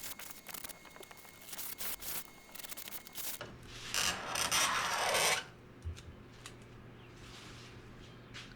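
A file works the bevelled edge of an RV-14 aircraft's acrylic canopy, starting as choppy close strokes, then swelling into one long, loud rasping pass before settling into quieter scraping.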